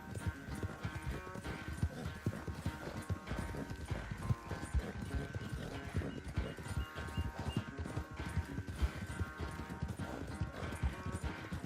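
A horse gallops in the video game Red Dead Redemption 2, its hooves beating a steady, fast clip-clop throughout with a brief whinny mixed in among the rhythmic thuds.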